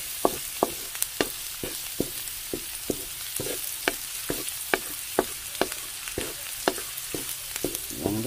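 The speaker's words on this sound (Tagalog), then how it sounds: "Igisahin lang natin to guys." Ground pork sautéing in a pan for ginisang pechay, a steady sizzle broken by sharp, regular spatula strikes against the pan, close and fairly loud, with no talking.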